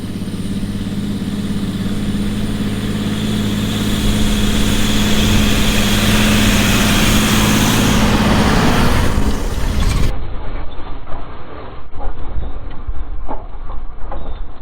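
A John Deere 8650 tractor pulling a field cultivator gives a loud, steady, deep engine drone, heard close up and continuous throughout with no voices.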